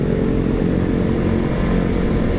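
Suzuki Address scooter riding toward Taman Mini on a hot, sunny day, its small engine a steady, loud continuous drone with road noise and no voices.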